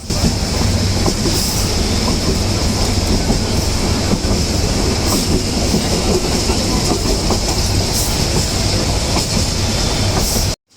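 A passenger train on the Dhaka–Joydebpur line rumbles steadily along the rails with rhythmic clickety-clack from the wheels, loud and continuous throughout, with no voices.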